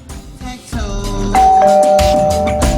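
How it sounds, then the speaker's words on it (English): A two-tone chime rings out clearly over a busy background, a bright sustained tone followed by a second lower note. "The doorbell rang"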